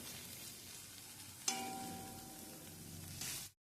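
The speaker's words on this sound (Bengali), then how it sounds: "এবার এটাকে আস্তে আস্তে একটুখানি ভাজা করতে দিতে হবে" Pointed gourd peel paste frying in a pan, a soft low sizzle with a brief clink midway, quiet and steady before cutting off abruptly.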